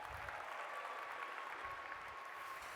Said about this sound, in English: Would you clap for Taylor?